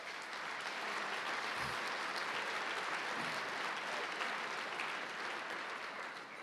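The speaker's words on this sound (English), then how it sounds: "So you deserve to give yourselves a clap and a pat on the back." A large crowd at a GAA club's 90th anniversary gala keeps up dense, sustained applause, heard close and even throughout with no talk over it.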